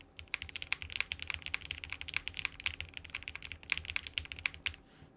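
Fast, steady typing on a Space 80 Apollo mechanical keyboard with tape mod and a GMK keycap set gives crisp, close clacks in a continuous stream, with no talking.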